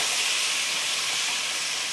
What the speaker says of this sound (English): Gonna let it heat up and then we're gonna toss the meat in there. Now we're gonna stir it in